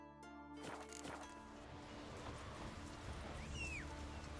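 Roach, the horse in The Witcher 3 video game, clip-clopping on its hooves in a soft, steady rhythm beneath ambient game sounds, with a brief whistling sweep near the end.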